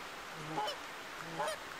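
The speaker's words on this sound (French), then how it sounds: "je sais pas si vous voyez, mais il y a des oies" Geese honk outdoors in a short double burst, two nasal calls about a second apart over a soft, steady background hiss, moderately distant and fairly quiet.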